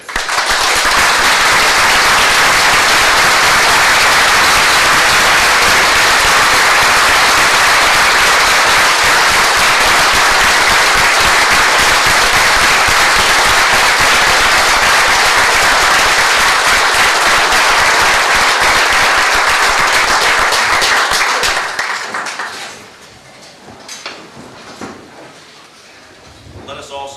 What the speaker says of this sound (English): Please join and stand in a round of applause for our World War II veterans here today